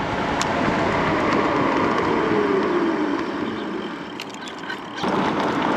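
A Motor Goat V3 electric bike runs at full throttle around 40 mph, heard as a steady, loud rush of wind and road roar with a faint motor whine that dips briefly before surging again.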